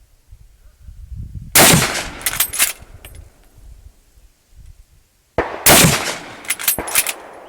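Two loud, sharp gunshots from a French MAS-36 bolt-action rifle in 7.5x54mm, fired outdoors at a range target, each with a long echoing tail, the first near 1.5 seconds and the second near 5.4 seconds, with faint low rumble between.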